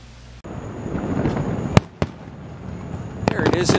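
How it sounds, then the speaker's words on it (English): Fireworks burst at night over Disney Beach Club Resort in Orlando, Florida, with sharp cracks and pops over a steady crackling rumble and faint voices nearby. "There it is at night with the fireworks."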